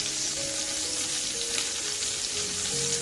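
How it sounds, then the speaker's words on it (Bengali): Chicken kofta balls fry in hot oil with a continuous close sizzle, bright and crackling, holding steady for the whole stretch with no one speaking. "একটা একটা করে চিকেনগুলোকে সব ভাজতে শুরু করে দিলাম"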